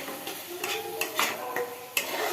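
Metal spoon scraping and tapping against a pan while adding ginger-garlic paste, a few close clinks over a faint background hiss, no talking.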